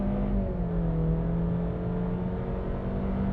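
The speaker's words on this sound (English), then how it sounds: "Then we're going to see how quick the CR-V accelerates." A turbocharged 1.5-liter four-cylinder Honda CR-V Touring Black Edition accelerating hard from a stop, a steady loud engine drone with rising harmonic whine held throughout, no talk.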